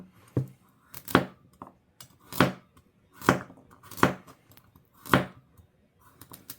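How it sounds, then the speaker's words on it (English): Carrots being sliced with a knife on a cutting board, six or seven crisp chops spaced about a second apart, close and clear with quiet pauses between strokes. "I'm going to be cutting up my carrots"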